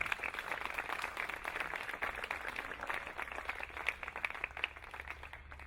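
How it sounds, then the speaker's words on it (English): An audience at an arts festival opening address gives a round of applause, a dense, even patter of many hands that sounds soft and somewhat distant throughout. "Another round of applause,"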